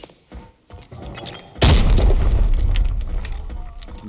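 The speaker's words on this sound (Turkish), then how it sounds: "Ulan ne bomba atıyorum ya." A grenade detonates in the video game Arena Breakout, a sudden loud, close boom that hits after a quieter stretch of faint clicks and rustles and then rolls on as a long, heavy rumble.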